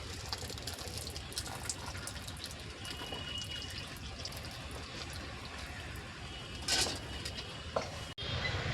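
Water from boiled rice pours and gushes steadily through a strainer, loud and close, with a few splashes and clanks near the end.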